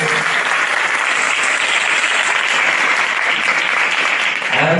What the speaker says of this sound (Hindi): हाथों को हिलाकर जोरदार ताली बजाकर जरा